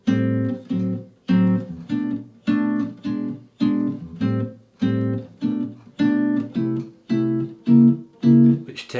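Jazz guitar plays the opening four bars of a song as a series of ringing chords, about a dozen evenly spaced strums each decaying before the next, clear and close with nothing else heard.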